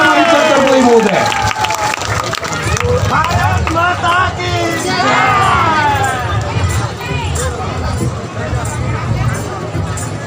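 An audience at an election rally applauds to welcome a speaker. The steady crowd clapping and murmur run throughout, while a voice speaks loudly over it.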